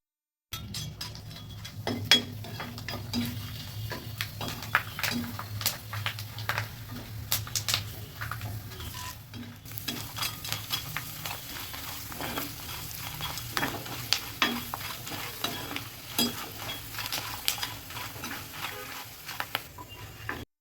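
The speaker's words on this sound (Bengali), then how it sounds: "এখন আগে আলু পাপড়গুলো ভেজে নিব" Potato papad sizzles steadily in hot oil while a utensil stirs and taps the pan in irregular clinks throughout.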